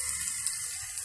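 A steady, bright splash of water flows into a pan of spices with turmeric, chili, cumin and cardamom over frying onions. It sounds as a short continuous hiss with no pauses.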